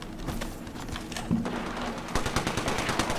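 Rapid bursts of automatic gunfire in the Apex Legends battle royale game, close and loud, with dense rattling shots cutting across a busy firefight backdrop.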